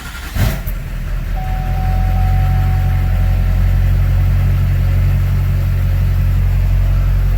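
A Duramax diesel truck engine fitted with an Airdog fuel system starts with a brief clatter, then settles into a steady, loud, close idle with a deep, even rumble and a faint whine above it.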